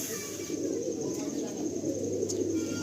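A male Chotial pigeon at a loft cooing softly, low throaty calls beneath steady background hiss and faint nearby chatter.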